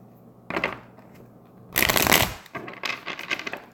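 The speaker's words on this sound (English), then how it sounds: "I'm just going to go ahead and shuffle the cards" Tarot cards shuffled by hand during a live reading, with two bursts of riffling and a louder central flurry of rapid card slaps, close and clear with no talking.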